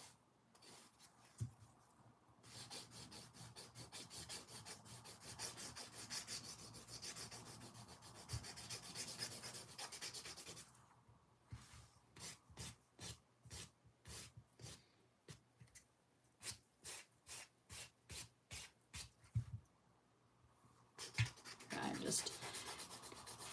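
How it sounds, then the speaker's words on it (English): Stiletto nail being shaped with a nail file along its outer edge to tighten the shape, giving steady scratchy rubbing strokes, first continuous and then in quick rhythmic bursts, close and moderately quiet with a brief voice nearby. "Filing the outer third of the nail. This is how to maintain the apex and tighten up the shape on the stiletto."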